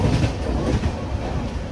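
Satavahana Superfast train running, a dense, steady rumble of wheels and carriages heard from onboard, loud and continuous with a faint clatter and no speech.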